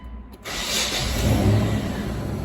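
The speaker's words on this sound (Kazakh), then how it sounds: "Көлікті қостық, барлығы әліме жасап тұр." A Mitsubishi Montero running without its catalytic converter cranks and catches, then settles into a steady idle, close and fairly loud, with a brief stutter at the start before the engine runs on evenly.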